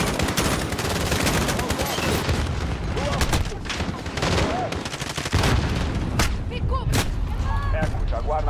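Dense in-game gunfire from Call of Duty: Modern Warfare (2019) on realistic difficulty, with sustained automatic bursts and booming shots filling the scene, heavy and continuous, while players talk over it.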